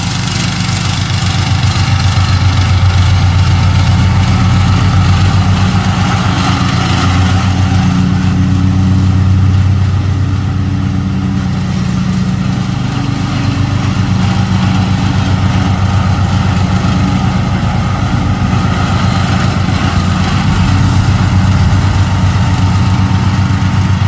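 A ride-on lawn mower engine runs steadily and loud for a long stretch, a constant low, throbbing drone with no talking.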